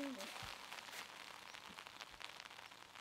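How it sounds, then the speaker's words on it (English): Rain picks up over a disc golf course during a professional tournament round, a steady broadband hiss of falling drops running throughout at moderate level, with faint voices and brief low thumps mixed in. "Now you hear the rain picking back up."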